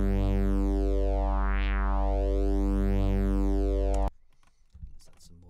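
Synthesized sub bass tone pitched an octave down, with a strong low fundamental and bright harmonics swept by a rising and falling filter for about four seconds, then cutting off abruptly into quiet clicks.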